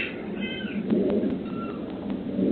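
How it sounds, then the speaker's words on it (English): A mother fox calls to her kits outdoors with harsh, strained, wailing cries, moderately loud and close, under a steady background hiss. "A mama fox calling to her kits sounds a lot like an animal being tortured."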